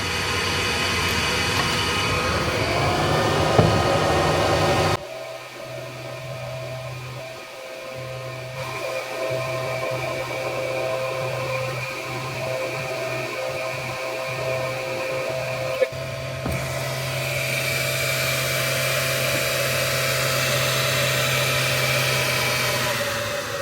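Laser engraver working on a crystal glass ornament, a steady mechanical whir and hum with faint tonal whine, shifting pitch and texture as the head moves, continuing alone at close range.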